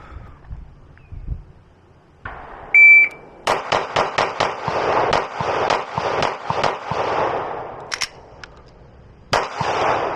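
A Beretta APX A1 Compact pistol fires at a shooting range, a rapid string of loud, sharp cracks after a short electronic beep, with a brief pause before a final shot.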